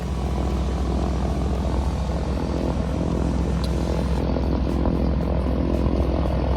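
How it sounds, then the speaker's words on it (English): A propeller plane arriving at Isle Royale drones with a steady, loud engine and prop roar that continues throughout. "our plane was going to arrive and take us home at 2 o'clock."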